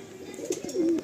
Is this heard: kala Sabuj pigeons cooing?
yes